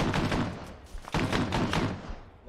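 Mortar rounds and gunfire in the military video game ARMA: two dense bursts of rapid loud shots and impacts, close and cluttered, separated by a brief gap.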